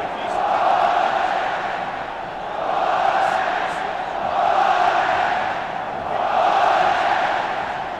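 Dense football stadium crowd roaring and chanting through a 1999 Brasileirão match between Atlético-MG and Cruzeiro, a steady wall of massed voices that swells and eases in slow waves.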